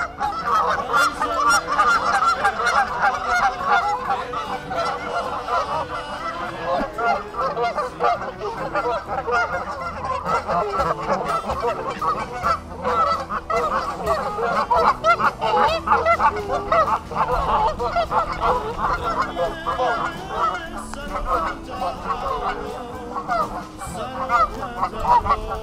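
Geese at a park pond at Floyd Lamb Park at Tule Springs, Las Vegas, keep up a loud, dense chorus of overlapping honks, steady and close throughout.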